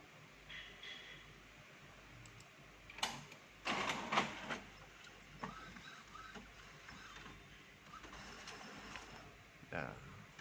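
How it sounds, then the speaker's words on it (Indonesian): An Epson WF-C5290 printer runs a test page on art paper, giving a low mechanical whir with a few louder clunks and feed bursts around the middle and end, fairly close and with no talk over it. "Kita coba tes print."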